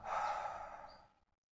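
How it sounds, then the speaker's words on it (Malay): A long, audible exhale released during a guided breathing exercise, starting strong and close, then tapering off into silence. "Tarik nafas. Lepaskan."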